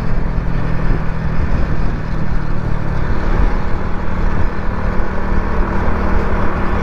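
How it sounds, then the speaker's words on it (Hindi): Steady roaring wind buffeting while riding an old-model Bajaj Avenger 180cc motorbike at speed on a foggy road, with a low engine drone underneath, continuous and loud throughout. "हवा काफ़ी बढ़ चुकी है स्पीड के हिसाब से"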